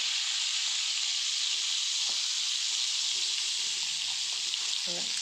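Fish curry with curry leaves coming to a boil in a pan over a low flame, a steady bright hiss and sizzle with soft bubbling pops growing toward the end.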